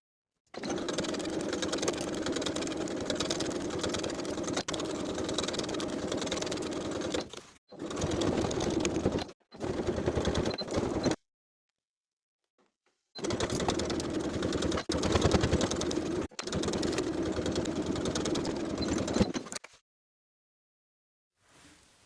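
A sewing machine stitches a seam on a pair of carpenter pants, running in long, loud, even bursts with short stops and one longer silent gap, close to the mic.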